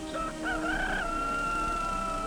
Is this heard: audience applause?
no